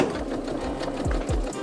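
A sewing machine stitches along the top of a jumpsuit waistband, a steady close whirring drone with rapid needle clatter throughout.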